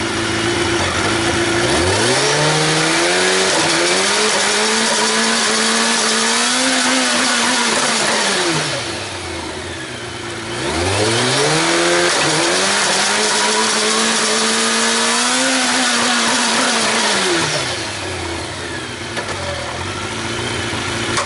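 A Kawasaki ZX-12R motorcycle, fitted with an auto-blip clutchless shifter, revs up through the gears and back down in two loud, close sweeps, with pitch climbing in steps then falling, a brief lull between runs.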